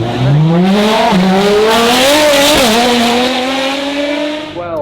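A race car at the Goodwood Festival of Speed sweeps past on concrete, its loud engine note rising and shifting through gears as it passes close by, then fading slightly at the end.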